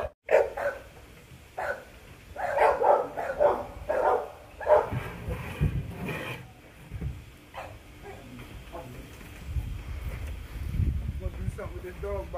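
Dogs bark and yip from outdoor family kennel runs, with repeated bursts of barking at moderate distance, then someone speaks over quieter whimpering.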